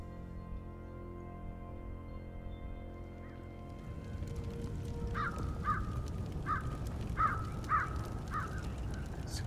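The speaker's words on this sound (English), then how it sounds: "Crows bellow in the distance." In the video game For Honor, after a quiet stretch of low ambience, a crow caws about six times in a steady rhythm, distant over a rustling background.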